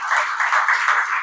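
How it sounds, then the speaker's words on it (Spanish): Church congregation clapping in praise during a Spanish-language sermon, a brief, loud, even burst of many hands that stays uniform throughout. "¿Cuánto le dan un aplauso al Señor por eso?"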